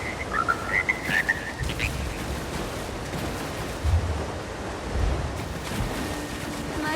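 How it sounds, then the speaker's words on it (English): Frogs in Elder Scrolls Online croak in a few warbling calls early on, then fade beneath a continuous wash of watery, surf-like ambient noise. "My beautiful frogs."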